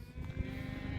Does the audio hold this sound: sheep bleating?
yes